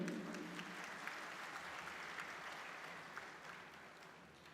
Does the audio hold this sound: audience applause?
yes